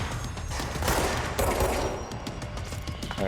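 Enemies shooting guns in the video game Control, dense continuous gunfire crackling steadily throughout, loud and close with rapid overlapping shots and no talking.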